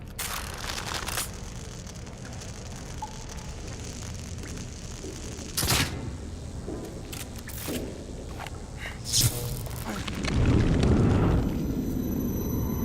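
A bomb exploding in The Evil Within: several sharp, broadband blasts and bursts stand out over a dense, rumbling game soundscape, ending in a longer roaring swell.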